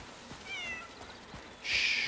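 A cat meows in the video game Crimson Desert, one short rising-and-falling cry near the start, followed by a louder, brighter burst of game sound at the end.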